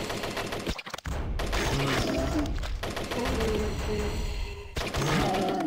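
Rapid bursts of gunfire fill a Shrek video game on the Nintendo DS, repeated shots running almost continuously alongside other busy game effects, with a short drop in sound near the start.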